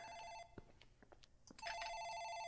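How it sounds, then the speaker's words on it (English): An office telephone rings in the video game Dark Fracture. It gives a bright electronic ring, breaks off briefly, then rings again, clear and fairly close, with no talk. "I think that's the phone in the office ringing."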